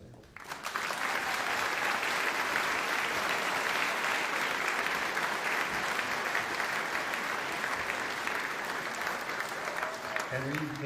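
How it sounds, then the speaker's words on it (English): Sustained audience applause at a high school class of 2023 awards ceremony, a broad steady roar of clapping across the whole span, with a brief voice at the very end. "One more applause there."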